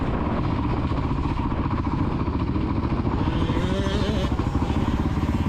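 A kids' motocross motorcycle runs at Astley MX main track, its small engine buzzing steadily and loud up close with a rapid even pulse, a voice calling out over it.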